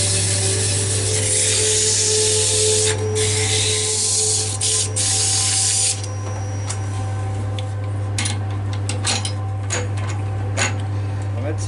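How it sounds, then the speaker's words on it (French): Olive wood jar lid being sanded over a constant low machine hum, with a hissing abrasive rasp broken by sharp ticks and scrapes, loudest early and then lighter and more intermittent. "Donc là je vais donner un petit coup de ponçage."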